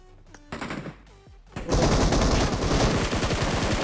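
Gunfire in the mobile battle-royale game PUBG Mobile: a few short bursts, then sustained rapid automatic fire that rattles loudly and continuously to the end, close up with no talk over it.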